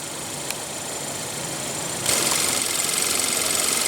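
A 2015 Hyundai Veloster's 1.6-liter turbocharged inline four-cylinder idles with a steady low hum and hiss, close by. Partway through, the sound rises into a brighter, louder rushing tone and keeps going with no talking.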